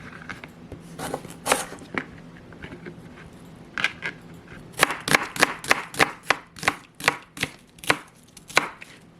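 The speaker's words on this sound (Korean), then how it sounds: "고구마 남은 건데 그냥 뭐 같이 썰어서 넣죠" Knife on a cutting board chopping leftover sweet potato, first a few scattered cuts, then a quick even run of sharp, close, crisp knocks, with no talking.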